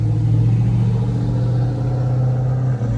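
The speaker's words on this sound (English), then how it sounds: "that dude driving his car, he don't have a hood on his car, and his motor's just exposed." A car with no hood and its engine exposed passes close by with a loud, steady low rumble and some mechanical clatter, alone without talk.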